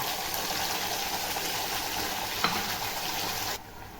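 Ground masala paste frying in hot oil with cumin and curry leaves for a rustic Marathi baby potato curry, a steady close sizzle and hiss that drops off sharply near the end.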